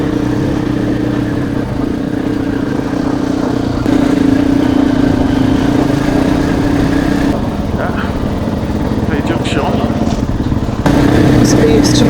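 Motorbike engine running steadily on an overgrown green lane in the White Peak, a loud close drone with a sustained mid-low tone throughout and a brief shift in pitch midway, with speech-like sounds over it.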